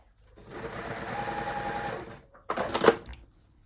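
Sewing machine stitching fabric pieces placed right sides together while making a scrap purse, running in a steady close whirr for about two seconds, pausing briefly, then a second short louder burst of stitching.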